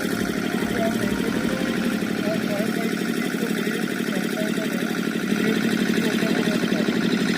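A gas leak alarm sounds continuously during a disaster mock drill at an industrial site, a steady warbling electronic tone with faint background hum and distant voices.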